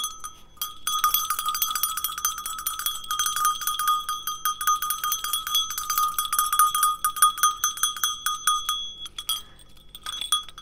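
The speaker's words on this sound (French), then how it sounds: "Je crois que je suis la seule youtubeuse à commencer ces vidéos avec des cloches." Small bells ringing in a quick, irregular jangle, bright and close, for most of the clip before fading out near the end.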